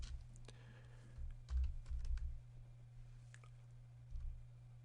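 Quiet, rapid clicking of a computer keyboard as a short word is typed into stock-scanning software, over a low steady hum in a room.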